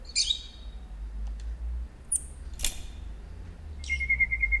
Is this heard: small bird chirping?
yes